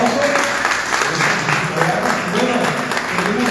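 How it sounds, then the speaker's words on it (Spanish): A crowd at a press conference for a charity 5K race applauds steadily for a few seconds, a dense wash of clapping from many hands. "Por favor, muchísimas gracias, un aplauso."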